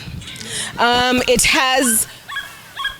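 Dogs in a large rescue shelter run at a Kenyan animal welfare facility whine and yelp in rising, pitched calls, several overlapping nearby in short bursts.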